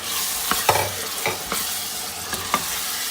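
Peas for a vegetable pulao stir-fried in a pan, with a loud continuous sizzle and several sharp spatula scrapes spaced through the clip, nothing spoken.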